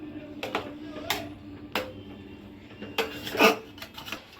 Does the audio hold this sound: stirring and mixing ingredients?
yes